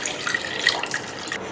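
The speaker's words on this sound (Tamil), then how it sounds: "அதுக்கு வந்து கொஞ்சம் தண்ணி ஊற்றிங்க." Water poured into freshly ground horse gram in a mixer jar while preparing horse gram rasam: a steady, close splashing pour lasting the whole moment, with no voices.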